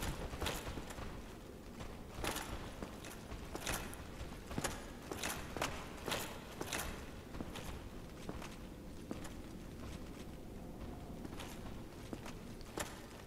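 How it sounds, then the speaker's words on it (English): Footsteps in the game Dark Souls thud and clack in a steady, repeated rhythm, fairly loud and continuous against a dense background of game ambience, with no talking. "Footsteps sound like they're getting closer."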